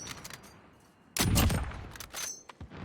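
Gunfire in the battle royale video game Call of Duty Warzone, a solo-versus-squads match: one sharp, loud shot cracks out near the middle, followed by a few quieter, scattered reports.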